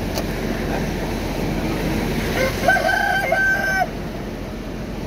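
A village rooster crows once over steady background rumble and noise aboard a ship docked in Palembang, the call fairly faint and distant.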